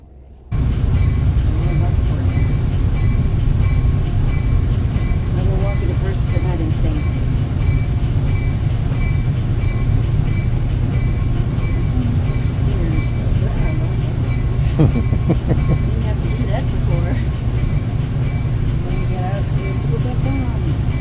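Steady low rumble and rattle of a train rolling along its rails toward Chicago Union Station, continuous and fairly loud throughout, with faint clanks now and then.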